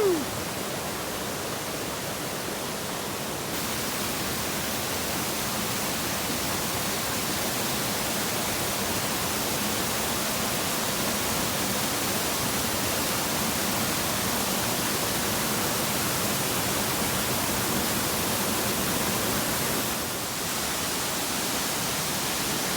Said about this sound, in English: This is the top of the Upper Pisgah Falls. Pretty loud up here.